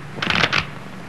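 A deck of playing cards is shuffled in a 1937 card-game scene, a short burst of quick riffling flutter lasting under half a second against quiet background.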